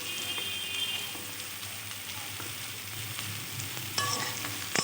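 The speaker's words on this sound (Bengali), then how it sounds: "পেঁয়াজটা যখন হালকা ব্রাউন হবে এবার দিয়ে দেব কুচি করে রাখা আলু।" Chopped potatoes and onions fry in a hot pan with a steady close sizzle, and now and then a spoon scrapes and clinks as the pan is stirred.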